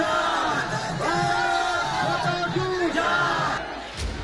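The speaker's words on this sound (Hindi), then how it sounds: "बल्कि जय श्री राम और भारत माता का उद्घोष सुनाई दिया।" A large rally crowd at a road show in Bishnupur during the West Bengal election campaign chants Jai Shri Ram and Bharat Mata slogans, a loud, dense mass of voices rising and falling in rhythmic surges throughout.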